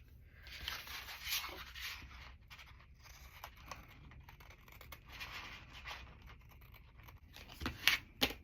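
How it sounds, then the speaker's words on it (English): Scissors cutting out magazine pictures for packing-tape transfers: quiet, close snipping and paper rustling with soft scratchy rubs and a few sharper clicks near the end. "let's cut these out"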